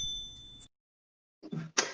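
A notification bell ding on a talk show intro, heard as a couple of short bright chimes after a gap of silence, close and fairly clear, following an earlier tone.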